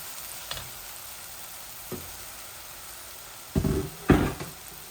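Onions frying in a pan: a soft, steady background sizzle broken by a few sharp stirring scrapes and clacks, the loudest two near the end, close by and with no voices.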